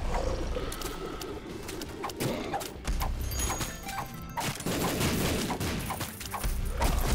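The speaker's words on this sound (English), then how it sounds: "the bombs are going off" Bombs going off in The Binding of Isaac during a boss fight, with a dense run of crunchy explosive bursts and crashes layered over busy game sound, steady and fairly loud across the stretch.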